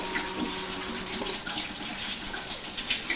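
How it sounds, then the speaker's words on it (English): Vinegar pours steadily into a pot holding chopped peeled tomatoes and onions for marrow chutney, a continuous close liquid splashing and gushing with no talk. "Just put in half a pint of vinegar."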